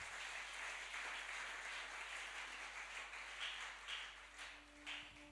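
A church congregation applauds, a continuous wash of many hands clapping in a fairly distant, reverberant hall that swells slightly and then eases toward the end.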